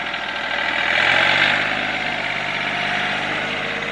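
A John Deere 4210 4x4 compact tractor with a 27 hp engine runs steadily nearby, a continuous diesel drone that swells slightly early on and then holds even.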